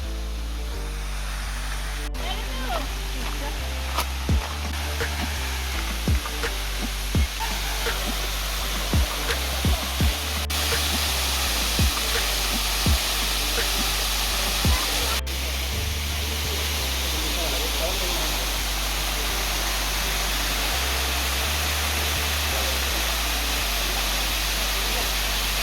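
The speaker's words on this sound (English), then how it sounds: "There the waterfall is." Roaring rush of the Midubanda waterfall in Daringbadi, a loud continuous broadband wash heard close up, with occasional thumps and knocks over it and no talk.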